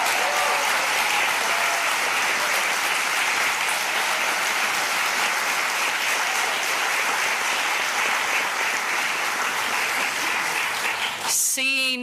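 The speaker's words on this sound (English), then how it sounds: "We want to applaud you." Sustained, even applause from an audience clapping for a group of students, a dense steady roar of many hands that runs throughout before a brief sharper sound cuts in right at the end.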